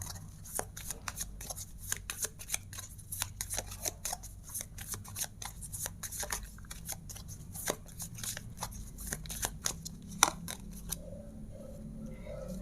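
Tarot cards shuffled and handled in a quiet room, a steady run of crisp riffling and slapping card sounds with frequent sharp flicks, close and fairly soft, ending in a few lighter taps.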